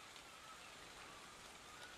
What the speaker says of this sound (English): Rain, rain, go away, come again another day.